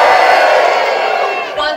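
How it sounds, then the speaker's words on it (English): Pantomime theatre audience at a Cinderella show cheering loudly, a dense sustained crowd roar of many voices with whoops that holds steady and swells briefly near the end. "Let me hear you cheer."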